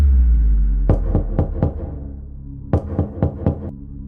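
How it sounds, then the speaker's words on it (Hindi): Knocking on a hotel room door comes as two sets of four sharp raps, the groups separated by a short pause. The knocks are loud and close, with no voices. "सुबह के 3 बजे पहली दस्तक।"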